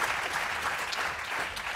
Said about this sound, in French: on les applaudit encore bien fort.